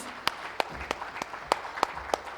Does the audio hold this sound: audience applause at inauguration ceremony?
yes